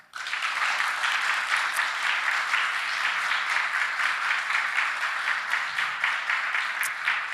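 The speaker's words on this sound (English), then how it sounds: "Everybody deserves a big round of applause." A conference audience at a security forum in Vilnius breaks into sustained applause, a bright, steady roar of many hands clapping that starts abruptly and holds evenly for several seconds without speech.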